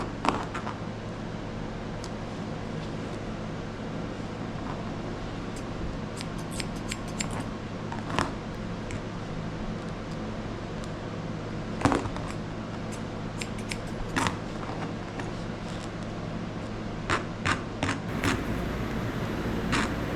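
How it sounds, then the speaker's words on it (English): Thinning shears snip through a tiny Yorkie's coat during grooming, with scattered crisp cuts and short bursts of snipping over a low steady room hum. "Anywhere I find tangles, I just take my thinning shears and thin it out"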